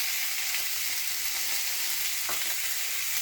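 Chopped onion frying in hot oil, a steady close sizzle with faint crackles and one brief stir, no voices.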